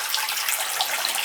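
Water gushes steadily from a bathroom faucet with low-flow trouble, a close, continuous hiss of running water with no voices over it.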